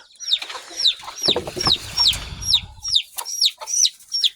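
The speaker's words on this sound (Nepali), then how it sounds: "एउटा चल्ला" A chick peeps again and again in sharp, high, falling chirps, while a hen gives low clucks in the middle, both close and fairly clear.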